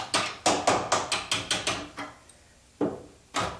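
Hammer tapping while a pre-hung door is taken off its jamb: a quick run of about eight evenly spaced sharp taps on wood, a pause, then two more separate taps.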